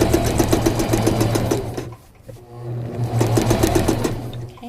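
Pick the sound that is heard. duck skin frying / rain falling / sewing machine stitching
sewing machine stitching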